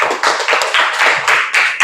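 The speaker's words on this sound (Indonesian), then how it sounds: "Beri tepuk tangan dulu buat kelompok 5 ya." Classroom applause for a presenting student group: a short burst of many hands clapping together, dense and steady, close and fairly loud, with no talk over it.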